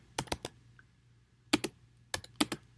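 Keystrokes on a computer keyboard while entering Python code, arriving in short bursts of three or four clicks with pauses between, close and crisp in a quiet room.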